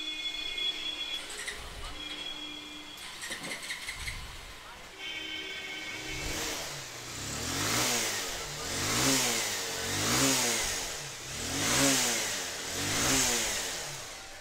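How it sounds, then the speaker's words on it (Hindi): A Bajaj Pulsar 220 BS6 motorcycle engine starts after a brief cranking and settles into a loud, steady idle, then revs in several evenly spaced rising and falling swells, with some speech at the start. "तो फ्रेंड्स चलिए स्टार्ट करता हूँ बाइक को।"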